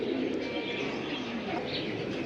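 Pigeons from a seller's new collection coo in a low, steady murmur, their calls blurred into a constant wash of nearby background noise.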